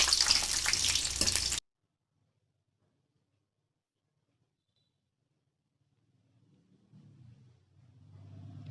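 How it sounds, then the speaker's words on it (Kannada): Peanuts roasting in a pan crackle and sizzle loudly for a short burst, then cut off abruptly into near silence, with only a faint low rumble returning near the end. "ಶೇಂಗಾ ಬೀಜ ಸ್ವಲ್ಪ ಕೆಂಪಗಾಗಂಗೆ ಹುರಿದು"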